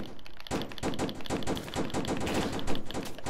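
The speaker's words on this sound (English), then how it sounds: "I'm getting shot at." Gunfire in the video game Roblox, rapid bursts of automatic shots beginning abruptly and continuing in a fast, steady rhythm, loud and close.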